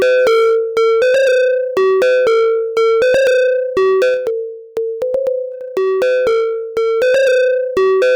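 A distorted sine wave pluck melody, run through a Flattener plugin with its dynamics crushed, plays alone as a steady stream of bright, harmonic-rich plucked notes in a quick rhythmic pattern, with one longer held tone near the middle.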